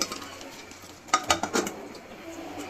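A lid is set down on a frying pan while eggs fry, giving a few close, sharp metallic clinks in quick succession over a faint kitchen background.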